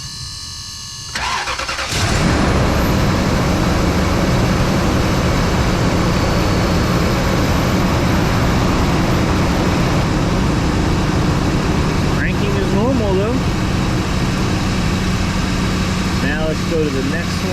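A car engine cranks briefly and catches, then settles into a steady, close idle hum. A voice speaks over it partway through.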